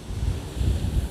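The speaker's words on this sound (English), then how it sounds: "The wind's got up a little bit." Wind gusts across the shingle of Chesil Beach at West Bexington on the Dorset coast on a breezy evening, a close, rumbling buffet of wind against the microphone with no other sound above it.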